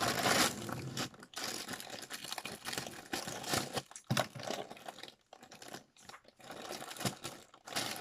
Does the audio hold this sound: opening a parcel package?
yes